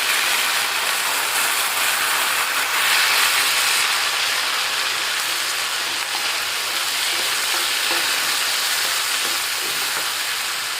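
Okra, tomato, green chillies, dried red chillies and curry leaves fry in a pan with a steady, bright crackling sizzle, close and even throughout, with no voices.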